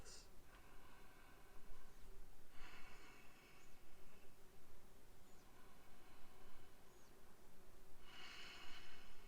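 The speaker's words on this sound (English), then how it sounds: "3 more breaths" Slow breathing during an outdoor vinyasa yoga pose at Big Sur, several soft airy breaths rising over a constant buzz of flies and insects, with faint chirps in the background.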